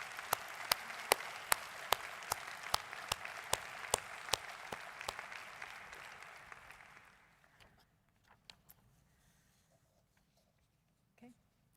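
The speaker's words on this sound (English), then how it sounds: "Please join me in a round of applause to thank our donors," Applause rises from the audience at the IFLA General Assembly, with several sharp individual claps standing out over the dense clapping before it fades out after about seven seconds into near silence.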